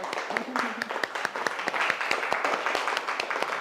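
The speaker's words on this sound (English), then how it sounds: "let's give ourselves a round of applause" A small group of attendees at a health talk claps for themselves, scattered distinct hand claps over a murmur of voices, moderately loud and uneven throughout.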